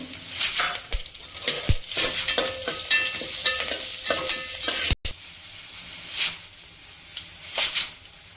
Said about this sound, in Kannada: ಸಾಸಿವೆ ಹಾಕ್ತಾಯಿದ್ದೀನಿ, ಒಣಮೆಣಸಿನ್ಕಾಯಿ, ಕರಿಬೇವು